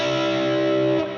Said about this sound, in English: So for instance, a major sixth would sound like this.